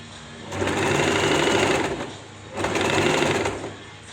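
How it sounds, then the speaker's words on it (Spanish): Sewing machine running a straight stitch at stitch width 4, in two even bursts of steady whirring, each about a second and a half long, separated by a short pause. "como estamos cosiendo con costura recta, como toda costura tiene que ser sí o sí a traque"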